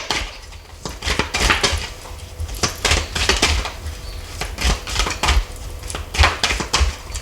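A deck of tarot cards being cut and shuffled up close during a Pisces reading, a run of crisp, papery slaps and riffles in irregular bursts with no talking.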